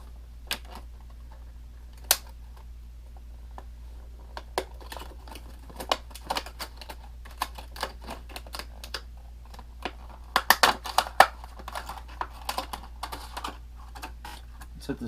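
A Streamlight TLR 6 weapon light for a Glock 43 is pulled out of its box. The packaging gives off scattered close clicks, taps and rustles, with a brief denser cluster of handling noise near the end.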